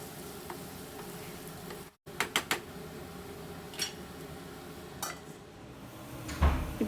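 Onions with turmeric and salt being stirred in a pan, a quiet background sizzle broken by several sharp spatula clinks and scrapes against the metal.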